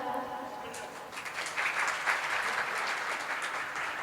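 Audience at a Bhaktamar and bhajan evening program applauding, a steady crowd clapping that swells halfway through and holds, loud and dense, with a voice speaking faintly at the start.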